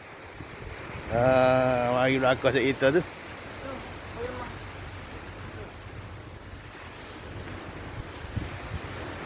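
Ocean waves break and wash continuously onto a beach, a steady broadband surf roar with some wind, heard beside a restaurant on the shore; someone speaks briefly over it early on, then the surf carries on alone.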